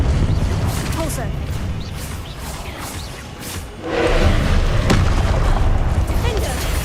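A Depulso spell cast in the video game Hogwarts Legacy, a booming force blast that swells partway through, set against continuous rumbling combat sound.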